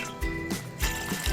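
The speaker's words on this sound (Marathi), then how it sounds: "आपल्याला प्रथम एका टोपामध्ये पाणी घालायचं आहे" Water is poured into a cooking pot to make Maggi noodles, heard as a few short splashing, gurgling bursts close by with no talk.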